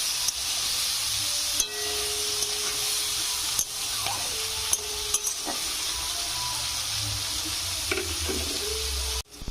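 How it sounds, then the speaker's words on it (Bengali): Onion stalks fry in hot oil with a steady, close hiss and sizzle that runs throughout, broken by a few soft scrapes and knocks from stirring. "এখানে আমি এবার পেঁয়াজ কলিগুলো দিয়ে ভেজে নেব"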